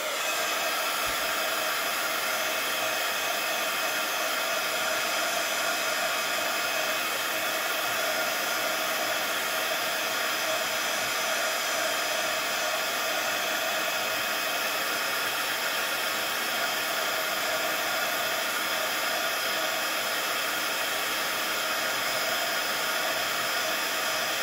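A hair dryer blows steadily on a watercolour painting, a constant close airy roar with a faint motor whine, unchanging in level for the whole stretch.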